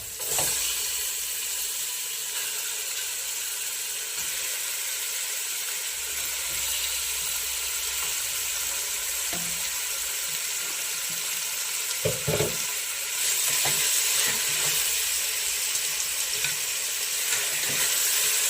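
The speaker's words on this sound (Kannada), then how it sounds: "ಇದಕ್ಕೆ ನಾವು ಇವಾಗ 1 kg ಚಿಕನನ್ನು ಸೇರಿಸ್ಕೊಳ್ಳೋಣ" One kilogram of chicken sizzles and fries in a pot for chicken biryani, a steady loud crackling hiss broken by occasional scraping clatters of stirring.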